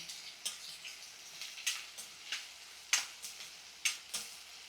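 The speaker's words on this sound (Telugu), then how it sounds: "ఉల్లిపాయ వేగేంత వరకు స్టవ్ని లో ఫ్లేమ్లో పెట్టి వేయించుకుందాం" Onions and curry leaves frying gently on low flame, a soft, faint sizzle broken by a run of light taps and scrapes of a spatula against the pan.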